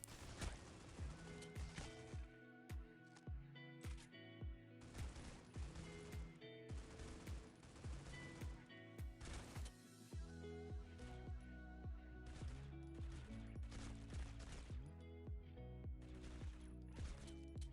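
Guns spray in the shooter game Critical Ops, with rapid automatic bursts repeating in a regular rhythm over sustained background music.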